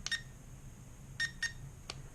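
A Protocol Kaptur GPS drone gives short electronic beeps during compass calibration, two quick chirps, then a pair, then a single one, all clear but quiet against a hushed indoor background.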